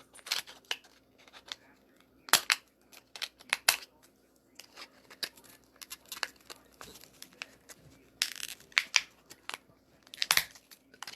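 Scissors snip repeatedly in short, irregular bursts, close and crisp, with brief pauses between cuts and a faint hum underneath.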